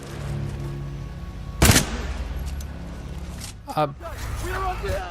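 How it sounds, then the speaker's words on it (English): Hemlock burst-fire rifle in Titanfall 2 firing two short, sharp volleys against steady game background noise, the first loud and the second a little softer. "The Hemlock is a burst fire weapon"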